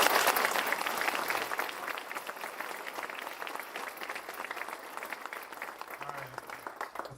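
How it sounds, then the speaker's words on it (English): Steady applause from an audience at a ribbon cutting for a community business accelerator and childcare initiative, a dense crackle of many hands clapping throughout, fairly loud and thinning only slightly toward the end. "Let's give Natalie, Melissa, and Casey another round of applause"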